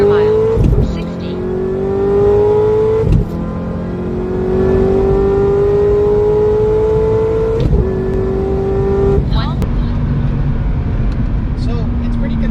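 A 2009 Corvette ZR1 accelerates hard at wide open throttle, its exhaust roaring loud and close with rising engine pitch through several gear changes, each shift marked by a brief break before the drone climbs again.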